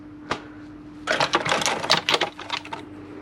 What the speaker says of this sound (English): So I need to do up that wastegate bolt.